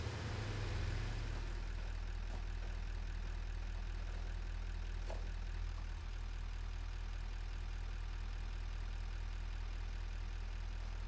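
A tractor in the video game Satisfactory runs with a low, steady engine drone, continuous and fairly faint throughout, with no voices over it.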